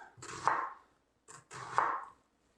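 A knife slicing through an onion on a cutting board, two short bursts of close cutting strokes separated by a brief pause, with no talking.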